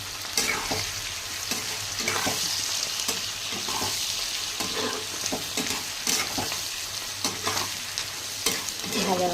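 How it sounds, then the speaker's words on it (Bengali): Capsicum and onion, salted, frying in a pan and being stirred repeatedly, a continuous close sizzle punctuated by regular scraping strokes of the spatula across the pan surface, with no voices. "ভাজা ভাজা হয়ে যাচ্ছে।"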